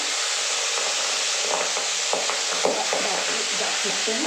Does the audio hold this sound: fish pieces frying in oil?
yes